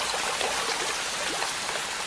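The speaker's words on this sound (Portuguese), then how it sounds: "As chuvas transformam a floresta amazônica e muitos de seus rios." Steady rain and rushing, flowing water in the Amazon rainforest during the rainy season, a dense continuous wash of noise with scattered drops, alone and unbroken throughout.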